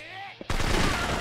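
Gunfire erupts in the video game Yakuza 3 Remastered as a sudden dense burst of rapid shots that follows a quieter moment and continues to the end.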